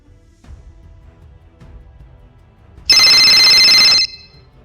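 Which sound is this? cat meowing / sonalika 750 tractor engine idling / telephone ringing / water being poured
telephone ringing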